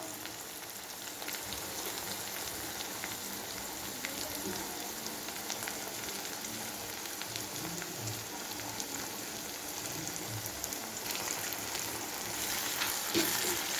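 Tomatoes frying with onions already browned red in a pan, for a chicken dish cooked with goat fat; a dense, steady sizzle crackles throughout without a break, with no voices.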